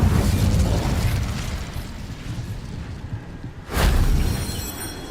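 An Incendio fire spell in Hogwarts Legacy bursts with a loud, roaring blast that fades to a low rumble, then a second whooshing boom flares up.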